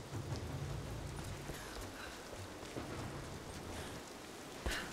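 Steady in-game rain from Rise of the Tomb Raider, a continuous wash of falling water and patter with a sharper impact near the end, heard alone without talk.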